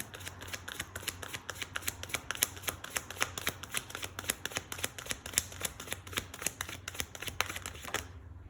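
Tarot cards being shuffled by hand, a rapid run of crisp, close slapping riffles in an uneven rhythm that stops abruptly at the end, with no talking.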